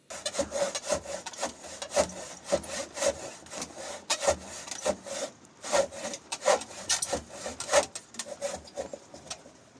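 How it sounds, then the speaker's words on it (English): Hand saw cutting through a large wooden plank to remove big excess chunks, with steady rhythmic back-and-forth rasping strokes, close and fairly loud throughout. "we just jumped in straight with the saw to, make it faster, just to cut off the really big excess chunks"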